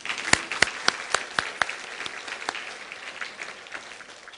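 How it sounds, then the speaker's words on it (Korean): Applause in a church, beginning as a few sharp, distinct claps and then blending into a softer, scattered patter that gradually fades. "이럴 때 박수 치는 거예요."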